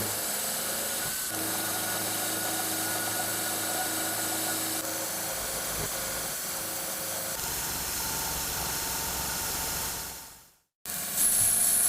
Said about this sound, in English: I'm using my power drill to help me out a bit